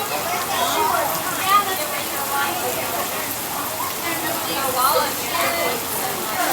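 A brief Florida rain shower falls at Magic Kingdom, a steady dense hiss of rain striking the ground and nearby surfaces, fairly loud and close, with murmuring voices of a crowd under it.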